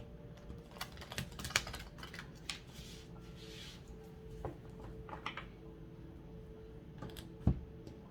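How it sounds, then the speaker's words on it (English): Oracle cards being shuffled, with soft papery riffles and light taps and flicks spread irregularly through a quiet room, close and faint, with no talking. "Last shuffle for Aquarius."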